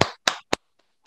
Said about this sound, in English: give me a clap real quick